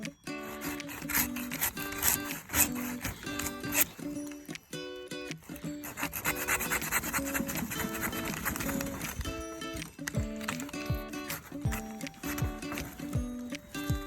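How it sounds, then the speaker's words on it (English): Rhythmic back-and-forth rasping of a Gerber hand saw biting through wood, steady strokes with brief pauses, close and fairly loud. "I'm not even putting that much pressure into it, and it's still kind of sawing on its own."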